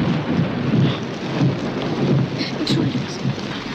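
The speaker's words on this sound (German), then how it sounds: "es wird gleich wieder donnern" A thunderstorm with steady, loud rain hissing throughout and a low rumble of thunder rolling underneath, dense and continuous with no talk.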